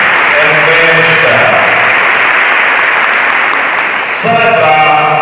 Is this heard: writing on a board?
no